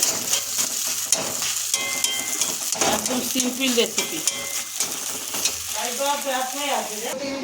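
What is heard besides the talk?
taro frying in a pan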